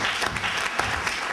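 Steady applause from an audience at a book presentation, dense clapping at an even level throughout with no voices.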